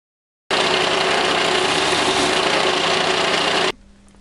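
Bench grinder working the pins of a speargun trigger mechanism, a loud, steady grinding whir that starts abruptly and runs continuously for about three seconds before stopping sharply into a faint hum.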